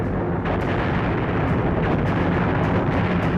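A German 88mm Flak 18 anti-aircraft cannon fires from a cruciform gun carriage, heard as a dense, continuous roar of booming blasts with sharp repeated reports layered loudly and close, no voices present.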